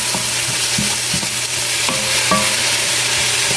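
String beans and shrimp stir-fried in a pan, a loud continuous sizzle with repeated clacks of a utensil scraping and tossing the food, no voices.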